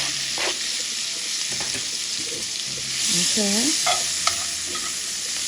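Vegetables fry and sizzle in leftover pork chop oil while being stirred, with a steady hiss and occasional scraping clicks; a short spoken word breaks in briefly.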